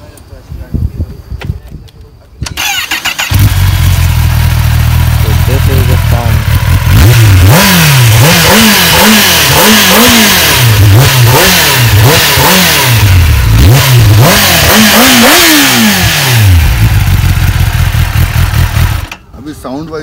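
A 2021 Kawasaki Ninja ZX-10R motorcycle with its catalytic converter, belly pan and exhaust is revved up close. The throttle blips repeatedly in a loud, rising and falling roar, with brief voices before and after.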